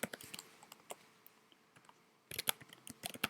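Typing on a computer keyboard while writing Python if-else code, with quiet, irregular key clicks, a short pause midway, then a denser burst of keystrokes.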